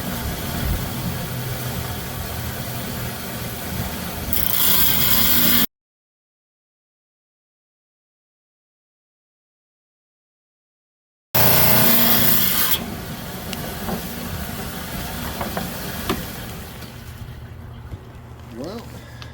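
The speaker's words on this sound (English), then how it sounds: "I got here a 10-inch high-tech saw that I'm going to use to trim up" A 10-inch lapidary saw trims stone cabochons of banded chalcedony or calcite, giving a steady grinding, rasping drone near the microphone with brief loud surges, while a person talks; a long stretch of silence breaks it midway.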